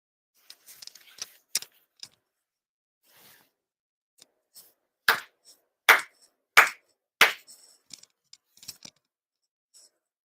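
Ritual hand claps at a Shinto monthly ceremony for Tenchi Kane no Kami: four sharp, loud claps spaced evenly near the middle, with scattered quieter taps and rustles before and after.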